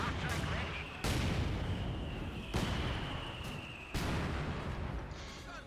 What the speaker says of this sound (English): Many mortars firing away.